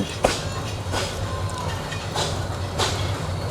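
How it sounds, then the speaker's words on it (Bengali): The Joyantika Express pulls away from a station with a steady rumble, and periodic rhythmic clacks from the rail joints recur every second or so. "আমাদের ট্রেনটি ছেড়ে দিয়েছে তার পরবর্তী যাত্রা বিরতি স্টেশনের উদ্দেশ্যে"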